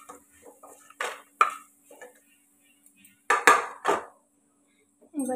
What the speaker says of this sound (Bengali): গরিগুলো ভাজা হয়ে গেছে, এগুলো তুলে নিচ্ছি।